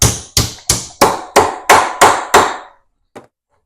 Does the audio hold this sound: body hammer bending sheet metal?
yes